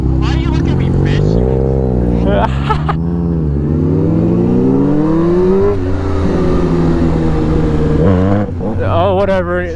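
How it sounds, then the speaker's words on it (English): A motorcycle engine on a spring ride revs hard and rises and falls in pitch, loud and close throughout, with people talking over it. "Your bike sounds so much angrier than I remember last, too."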